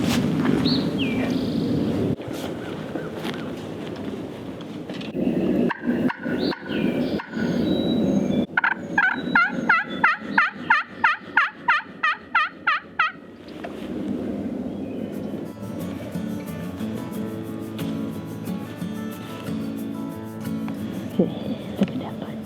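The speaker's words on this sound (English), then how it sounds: "I might have just heard a gobble." A wild turkey gobbles outdoors during a spring hunt, a distant rattling gobble over steady woodland ambience, followed by a long series of evenly spaced sharp pulses and later faint insect-like buzzing.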